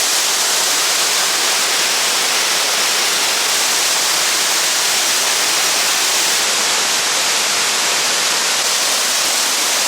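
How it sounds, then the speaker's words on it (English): Bridal Veil Falls, a waterfall in the Columbia River Gorge in Oregon, roars as a loud, steady broadband rush of falling water, constant and close with no voices. "let's see if we can get a closer look at this waterfall"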